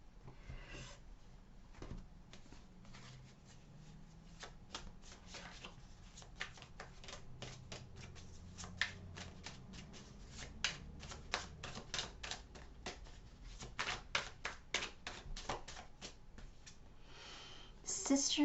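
Tarot cards are shuffled up close: a rapid run of crisp papery flicks and riffles, quiet at first and growing busier and louder toward the end, with no talking over it.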